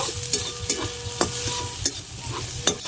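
Coconut and whole green chillies fry with a soft constant sizzle, punctuated by sharp, irregular clacks of a spoon stirring against the pan.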